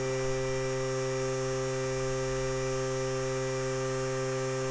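A vacuum sealer pump draws air out of a bag of dry food for long-term storage, giving a steady, loud electrical hum with strong even tones and no break from start to end.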